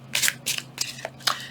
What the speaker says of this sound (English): I'm going to shuffle because I want to select a card.